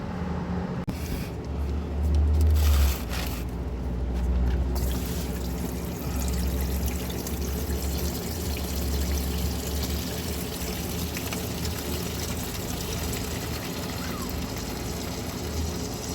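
Thin diesel engine flush fluid runs out of a drained engine in a steady, free-flowing pour with a soft continuous trickle, close by and alone, with a low hum underneath.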